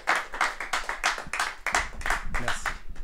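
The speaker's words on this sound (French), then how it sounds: "Applaudissez bien fort le Gitan Noir" An audience applauds loudly for the performer Gitan Noir after a flamenco set, with dense, continuous clapping that swells in waves. Voices and low rumbles run underneath the clapping.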